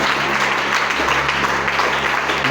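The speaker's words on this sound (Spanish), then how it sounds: "Vuelvo a aplaudir al Señor." Church congregation applauding the Lord, a steady wash of clapping from many hands filling the room without pause.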